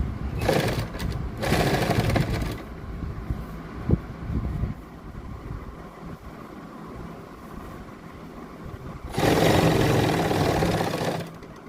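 Sewing machine stitching an invisible zip onto a kurti, running in loud bursts at the start and again near the end, with a quieter mechanical hum and handling noise between the runs.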